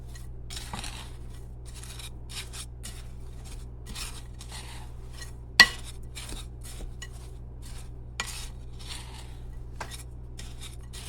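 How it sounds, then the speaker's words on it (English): Dry ingredients for a sawdust pie are stirred together in a bowl, making soft, intermittent close scraping and rubbing strokes with one sharp clink partway through, in a quiet room. "And you just stir this all up together"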